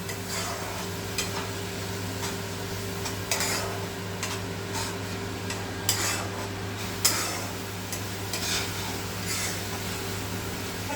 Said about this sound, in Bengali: এবার একসঙ্গে আমি এই মশলাটাকে ভালো করে কষাবো